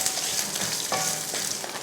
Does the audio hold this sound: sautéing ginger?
yes